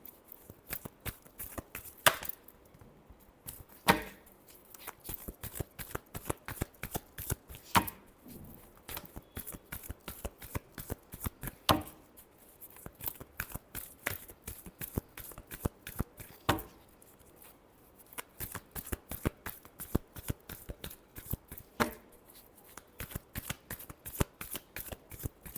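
A tarot deck is shuffled continuously for a long stretch, with dense, quick papery flicks and taps close by. The shuffling is quiet but clear and pauses briefly a few times, with no voices.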